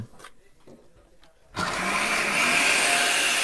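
A food processor shreds carrot, its motor surging into a loud, steady whir with a gritty, shredding texture after a brief moment of quieter handling and faint voice beforehand.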